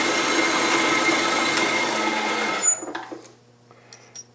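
A drill bores through metal in a home machine shop while making a floating reamer holder, a steady loud whirring grind that cuts off near the end, followed by a few light clicks and taps.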